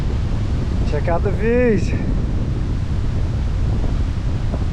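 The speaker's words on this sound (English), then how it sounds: "The wind's definitely picking up." Wind gusts roar across a ridge in Lamington National Park, a broad, constant rushing buffeting the microphone, with someone briefly speaking over it early on.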